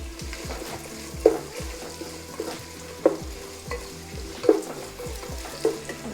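Salted onions fry in a pan with a low, even sizzle, punctuated by several sharp spatula taps against the metal at irregular intervals.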